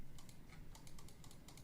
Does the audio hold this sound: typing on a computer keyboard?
yes